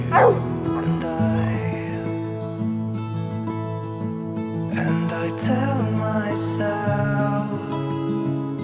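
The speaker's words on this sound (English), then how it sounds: "You could hear, guys, the barking of this animal" A dog barks and yips repeatedly nearby, with whimpering, high-pitched bursts between barks.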